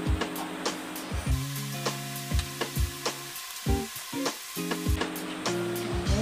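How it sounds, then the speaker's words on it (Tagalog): Glutinous rice simmering in coconut milk in a pan, stirred with a utensil that gives repeated scraping knocks and thumps over a steady bubbling sizzle, close and moderately loud. "Haluin nyo lang kasi para hindi masunog yung nasa ilalim"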